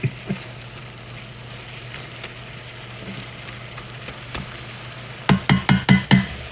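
Vegetables for pepper steak sizzle steadily in a pan, a constant frying hiss with a few sharp scrapes or stirs near the end.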